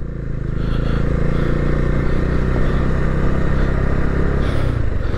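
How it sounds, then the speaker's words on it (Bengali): Adventure motorcycles ridden on a hillside training ground, their engines a continuous loud rumble with some revving and clatter, no talking. "অ্যাডভেঞ্চার বাইক শেখানো হচ্ছে এখানে।"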